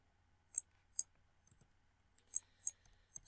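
Scattered light clicks of typing on a computer keyboard, about a dozen quiet, separate keystrokes at an uneven pace with no voices.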